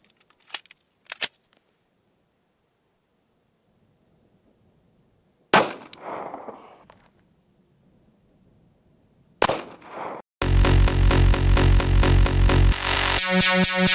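Federal 9mm 135gr Hydrashok Deep pistol rounds fired into a ballistic gel block dressed in heavy clothing, heard as a few sharp, loud close shots with brief ringing tails, followed by a dense mechanical rattling burst.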